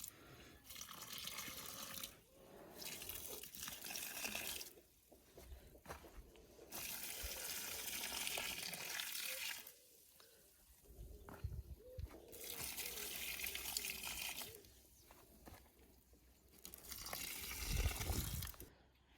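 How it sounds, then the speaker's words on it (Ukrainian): Half a litre of fertilizer solution poured from a container into dry soil under tomato seedlings, heard as bursts of splashing, trickling liquid alternating with quieter pauses, close by. "І так само пів літри розчину виливаю під помідори."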